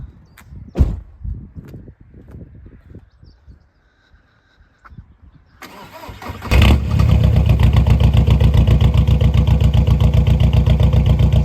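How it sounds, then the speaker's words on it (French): An Audi A3 TDI diesel engine cranks and fires up after a quiet stretch of faint background sounds, then settles into a loud, steady, rapid diesel clatter at idle close by. "Et tu me fais un petit démarrage, on va écouter ça."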